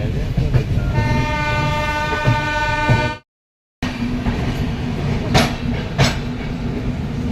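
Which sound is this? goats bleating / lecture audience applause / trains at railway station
trains at railway station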